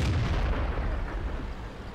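Tank cannon firing in a tank video game, a loud heavy boom that opens the clip and rolls off into a deep rumbling decay.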